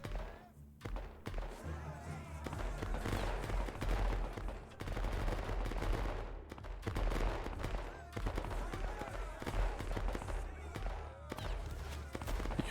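Musket volleys crackle and thump without pause in a video game battle between Prussian and Swiss armies, loud layered gunfire over several seconds with voices talking underneath.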